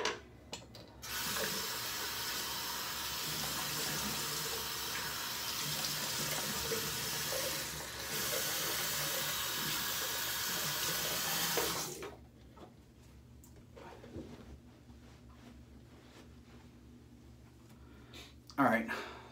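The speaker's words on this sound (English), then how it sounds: "I'm going to go ahead and rinse off the razor and my face" A bathroom water tap runs loudly and steadily for about eleven seconds while a razor and face are rinsed under it, then shuts off, leaving quiet room tone and a brief clatter at the end.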